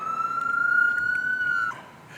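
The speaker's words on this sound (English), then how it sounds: "they got more freaking ambulances driving around than Ubers" An ambulance siren passing in a city street gives a single steady high tone that holds loud and clear, then cuts off abruptly, leaving faint traffic noise.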